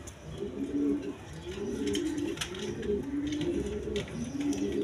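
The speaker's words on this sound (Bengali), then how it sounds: "এখানে এক পেয়ার হাই ফ্লাইং গিরিবাস কবুতর আছে" A pair of high-flying Giribaz pigeons coo in a steady, repeating rhythm of soft, low rolling calls, close and moderately loud, with a few faint clicks and rustles behind.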